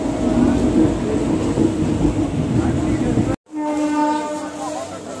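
From on board, a train pulls into platform 4 at Dum Dum station. A loud steady rolling rumble breaks off abruptly, then resumes more quietly with drawn-out tonal squeals and whines.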